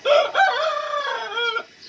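A Harati or Arab-breed rooster crows once, close and clear, a single drawn-out cock-a-doodle-doo lasting well over a second before falling silent.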